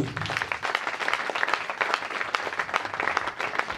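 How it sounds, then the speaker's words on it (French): An audience claps steadily, a dense, even patter of many hands at moderate volume, with no break or speech over it. "Applaudissez pour vous-même."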